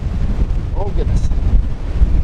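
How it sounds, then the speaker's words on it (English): Strong storm wind at a campsite rumbling and buffeting the microphone in a steady low roar, loud and close, with a brief faint voice mixed in. "here comes that wind they were warning about"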